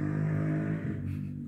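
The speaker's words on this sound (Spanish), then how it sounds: "La moto que nunca falta en los videos" A motorcycle engine revs and drones nearby, a steady throaty hum that shifts pitch partway through and eases slightly, heard alone without voices.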